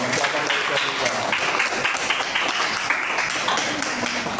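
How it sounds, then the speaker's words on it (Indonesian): Scattered applause from a class rewarding a student's correct answer during a school lesson, moderately loud and brief, with a murmur of voices mixed in. "Betul, tepuk tangan dong"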